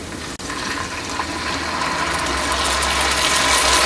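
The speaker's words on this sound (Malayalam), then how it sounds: "നമുക്കിതിലേക്ക് വാളംപുളിയുടെ വെള്ളം ചേർക്കാം." Tamarind water is poured into a pot of rice for a Kerala-style variety rice, a steady rushing splash that holds on for several seconds and swells slightly louder, with no voices.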